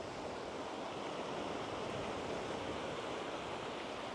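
Surf washing onto quiet Puek Tian Beach in Phetchaburi, heard as a steady, even broadband wash of waves with no distinct breaks, moderately soft and uninterrupted, with no voices.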